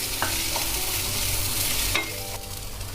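Cluster beans stirred and sautéed in hot oil for a traditional South Indian Mahalaya meal, with a steady soft sizzle and a few scraping stirs of the spoon close up, no talking.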